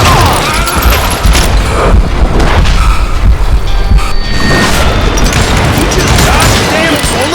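Gunfire from a Western-themed shooter, Call of Juarez Gunslinger, with loud booming shots and crashes scattered through a dense, busy mix, a voice speaking over parts of it.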